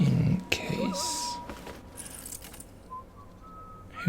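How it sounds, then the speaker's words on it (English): A faint tune is whistled in the stealth video game Dishonored: Death of the Outsider, a few thin wavering notes set over quiet ambient hum and scattered soft effects. "Who's whistling?"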